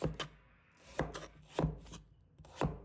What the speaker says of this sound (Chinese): 再把冬瓜切成大小均匀的小块